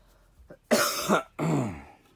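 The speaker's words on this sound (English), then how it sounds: "Excuse me for my coughing." A person coughs and clears their throat several times in quick succession, close and fairly loud, with no talking.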